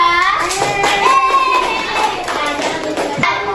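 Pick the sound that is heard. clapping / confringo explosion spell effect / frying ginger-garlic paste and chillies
clapping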